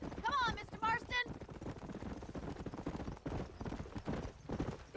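Horse hooves clip-clopping in the Red Dead Redemption video game: a few quick rhythmic footfalls mixed low with game sounds and a short whinny-like call near the start, with people talking over them.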